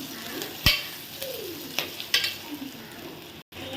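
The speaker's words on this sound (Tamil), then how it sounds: "நல்லா அந்த பச்சை வாடை போகிற வரைக்கும் நல்லா வதக்குங்க" Ginger garlic paste sautéing in a pan for baby corn vegetable biryani gives a soft, continuous sizzle, broken by a few sharp scrapes and clinks of the stirring utensil against the pan.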